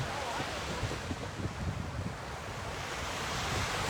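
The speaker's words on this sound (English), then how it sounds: "I am literally sitting in front of an entire ocean" Ocean surf and wind heard from the shore, a faint, steady broadband wash with gentle swells and no distinct breaks, with wind buffeting the microphone.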